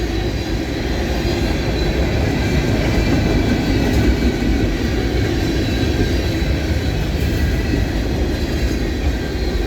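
A freight train rolls past in Ohio with a continuous loud rumble and rhythmic clatter of railcars over the rails, close by and unbroken throughout, no voices.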